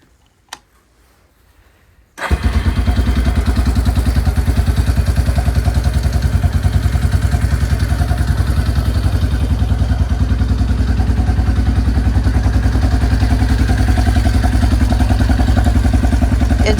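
A 1990s Yamaha Kodiak 400 ATV engine, fitted with its original carburetor, catches after a short quiet click and settles into a loud, steady close idle with a fast, even thumping beat.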